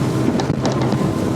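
A Halma RIB HR 30 inflatable boat accelerating through waves: a loud, continuous engine roar mixed with heavy wind buffeting against the microphone, with no pauses.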